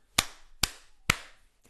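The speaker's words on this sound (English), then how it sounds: "Give a loud, clear clap into the mic" Three sharp hand claps made close to a podcast microphone, evenly spaced about half a second apart, each a loud crisp snap with a short decay, with no talk.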